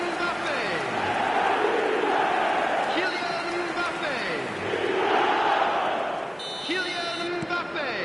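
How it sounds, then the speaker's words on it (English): A stadium crowd in the eFootball 2026 football video game roars and cheers in a steady, swelling wash, with commentary voices talking over the noise throughout. "The crowd are calling for this to be put to bed"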